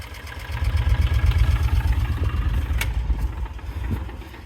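A rough, uneven idle from a 1995 Kawasaki Mule KAF620A utility vehicle running rich and backfiring rumbles steadily up close, its low throb wavering with a few faint pops and sputters.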